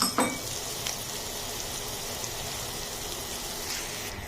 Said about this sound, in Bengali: পেঁয়াজ এবং কাঁচামরিচ একসাথে আমি দিয়ে দিচ্ছি। এখন এগুলো আমি একটু ব্রাউন করে ভেজে নেব।